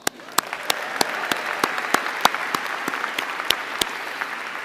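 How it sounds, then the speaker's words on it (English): A commencement audience applauds steadily, a dense wash of many hands clapping with sharp individual claps popping out near the microphone, continuous and fairly loud throughout. "a round of applause"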